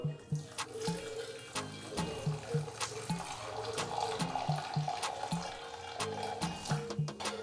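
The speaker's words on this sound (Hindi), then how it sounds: "अभी मैं इसके अंदर डालूंगा हाफ कप हॉट मिल्क, यानी कि गर्म दूध मैंने लिया है, तो ये डालेंगे इसके अंदर हाफ कप" Hot milk, half a cup, pours steadily onto soaking cashews and almonds in a bowl, a close, continuous liquid splashing and trickling with small gurgling pulses throughout.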